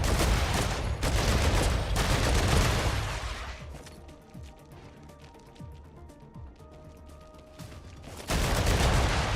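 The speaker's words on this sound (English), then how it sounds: "We're getting sniped from over there." Rapid volleys of gunfire crack and rattle in a sci-fi shooter firefight, loud bursts at the start, a quieter stretch with scattered impacts, then heavy firing resumes at the end.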